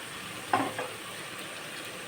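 Spice paste being fried and stirred in oil for a Bengali brinjal and pabda fish curry, a quiet soft sizzle with a few light scraping strokes of the spoon.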